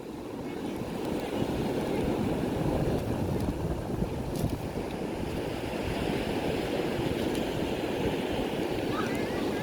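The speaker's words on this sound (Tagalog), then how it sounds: "Ang sarap pakinggan nung nung agos ng wave." Ocean surf washes steadily onto Shek O Beach in Hong Kong. The waves make a continuous broad rush with some wind noise.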